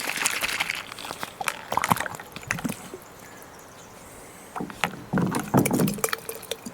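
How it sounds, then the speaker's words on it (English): Water sloshes and splashes as a sniffer bottle used for gold prospecting is emptied, in irregular bursts of pouring and dripping, close by, with a quieter pause in the middle before more splashing. "we'll empty the sniffer bottle in and we'll have a look at what we got"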